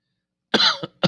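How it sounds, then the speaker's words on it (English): A sharp, close cough bursts out after a silent start, followed by a short second cough and the start of a third. "I coughed during that similar symbol"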